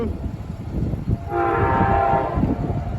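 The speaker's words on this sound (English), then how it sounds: "here comes Amtrak. It is the Floridian bound for Chicago." Amtrak Floridian passenger train bound for Chicago passes nearby, its horn blowing one sustained, steady chord through the middle of the clip over a continuous rolling rail rumble.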